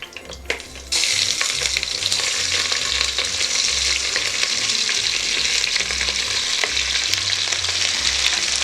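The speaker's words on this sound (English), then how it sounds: "I'm now adding some of my cabbage that I chopped up." Chopped cabbage hits a hot pot where cabbage rolls were just cooked, bursting into a loud, steady sizzle with soft stirring scrapes underneath for several seconds.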